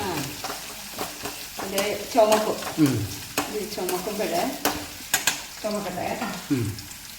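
Small onions sautéing in coconut oil with ginger and garlic, giving a steady sizzle with repeated scrapes and stirring clatter against the pan, close and alone.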